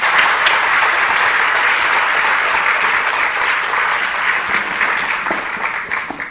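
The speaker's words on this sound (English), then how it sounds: "Please give him a round of applause." An audience at a conference gives a speaker a sustained round of applause, loud and dense throughout before tapering off slightly at the end.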